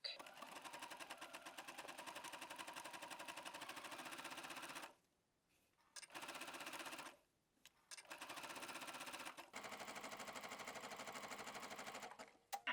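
A sewing machine runs a zigzag stitch, 4.5 wide and 3.0 long, over fold over elastic on underwear fabric, a fast steady mechanical chatter broken by two short pauses and a brief stop near the end, close and clear with no talking.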